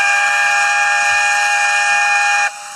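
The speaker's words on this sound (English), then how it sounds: "This is the sound of the train pulling you to London in 46 after Unix" A loud, steady train whistle holds a sustained harmonic chord for about two and a half seconds, then cuts off abruptly, leaving a quieter tail of the tone.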